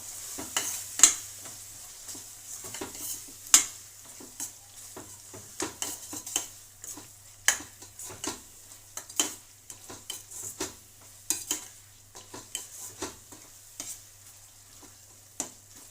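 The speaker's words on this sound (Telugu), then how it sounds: "అన్నీ బాగా కలిసే వరకు కలుపుదాం" A spoon stirring tomato rice in a pan, with irregular scrapes and taps against the metal over a faint steady sizzle, close and moderately loud with no voices.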